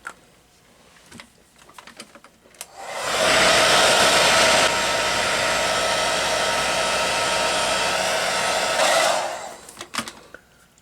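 A hair dryer drying wet paint switches on and blows in a loud, steady roar for about six seconds before shutting off, with faint handling noises before and after.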